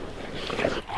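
A farm dog makes a short, close whining vocal sound against a noisy background.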